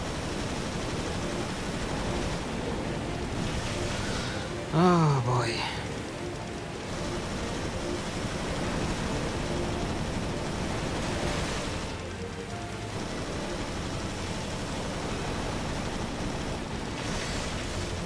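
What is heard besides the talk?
water waves in Resident Evil: Revelations video game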